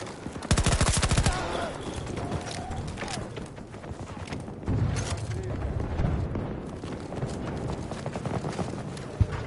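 Rapid gunfire from an intense Battlefield 2042 multiplayer firefight, with repeated bursts and sharp shots throughout, a loud dense cluster early on, battle noise underneath and occasional voices over it.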